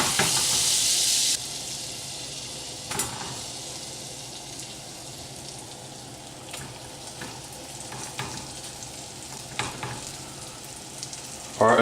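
Crab cakes frying in melted butter in a new saute pan give a steady close sizzle with a hissing burst at the start and occasional small pops and crackles, with no talking.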